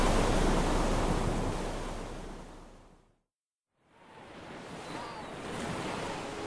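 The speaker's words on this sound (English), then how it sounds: "The wave crashed down on top of them, and both Skiff and Jim went under the rough ocean." A big rough-sea ocean wave surges and crashes in a broad roaring wash, fades to a moment of silence, then churning water and wind rise again.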